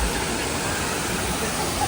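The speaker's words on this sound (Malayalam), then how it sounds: "ഒരു വാട്ടർഫോളിന്റെ അവിടെ വന്നേക്കണേ" A waterfall near Adimali town sends up a steady, full rush of falling water, close and continuous, with no voices over the roar.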